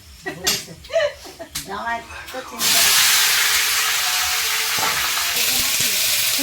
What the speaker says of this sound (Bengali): এবারে তেলে একটুখানি পাঁচফোড়ন দেব আর এই রসুনটা দেবো